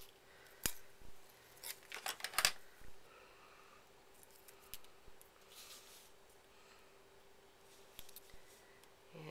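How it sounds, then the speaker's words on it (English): Scissors snip through thin craft foam pieces for a handmade shaker card, giving a few sharp close cuts with a quick burst of snips, then quieter rustling and handling. "So this one we have to cut a little bit."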